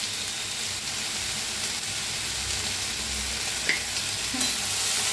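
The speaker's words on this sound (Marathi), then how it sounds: "मिक्स करून भाजूया" Masala for a paneer dish being stirred and roasted in a pan, a steady sizzling hiss with faint scraping of the spoon throughout.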